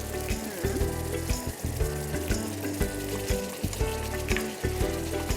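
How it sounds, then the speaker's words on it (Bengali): Minced meat hits a pan of oil-rich fried spice paste for mutton rogan josh, raising a loud, steady sizzle with scraping stirs, and music plays throughout. "এখন এখানে আমি দিয়ে দিচ্ছি এই যে কিমা।"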